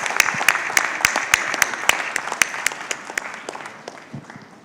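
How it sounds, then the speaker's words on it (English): Audience applause at an economic dialogue event, dense crowd clapping with sharp individual claps standing out, steady for several seconds then thinning toward the end. "Big round of applause."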